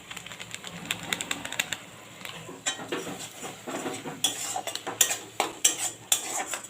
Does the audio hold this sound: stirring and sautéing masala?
yes